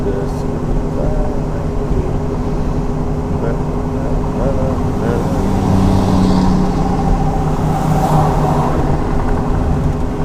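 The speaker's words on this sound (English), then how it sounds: "You hear them just flying by me, the cars?" Cars rush past close by on a road, a steady broadband traffic roar with passing swells, while a person talks over it during a live lunch delivery outing.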